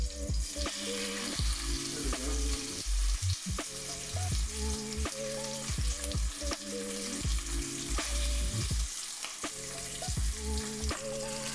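Chicken fries in a hot pan of ginger-garlic oil: a continuous close, loud sizzle runs throughout, punctuated by repeated clattering bumps and scraping as the pieces are moved and stirred, with a steady, busy rhythm and no voices.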